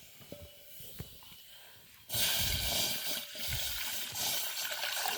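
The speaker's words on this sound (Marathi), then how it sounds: "पाणी टुपटुप टुपटुप गळता वाटतं" Water from a cooking pot with a hole splashes and trickles outdoors, starting abruptly after a quiet couple of seconds and then running steadily and fairly loud to the end.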